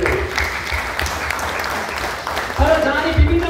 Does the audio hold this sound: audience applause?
yes